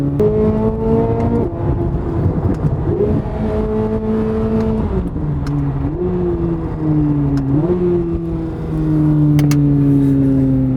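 A Chevrolet Corvette C8 Z06 engine revs hard as the car accelerates, its loud, close tone climbing through several gear changes without a break.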